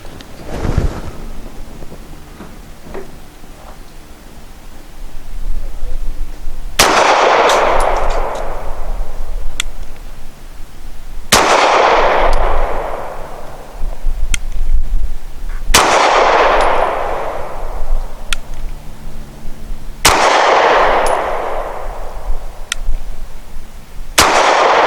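Four loud, sharp shots from a Springfield XDe 9mm pistol firing 115 grain Nosler match ammunition from an extended magazine, spaced a few seconds apart, each with a long rolling echo tail over a steady outdoor background.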